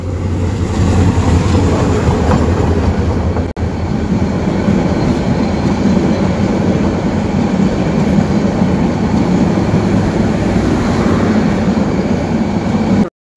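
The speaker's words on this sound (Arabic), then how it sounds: "بس هذا هو قطار ركاب." A passenger train passing through Feni railway station in Bangladesh, a loud, continuous rumble of wheels and carriages on track with rhythmic clatter, very close and sustained until it cuts off at the end, with no talk.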